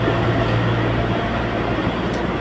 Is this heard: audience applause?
no